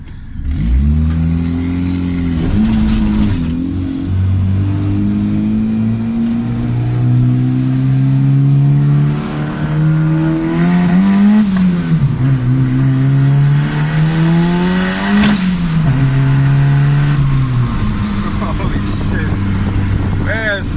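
A turbocharged D16 Honda Civic engine revs repeatedly, its pitch climbing and dropping through gear changes as the car accelerates hard, loud and close throughout.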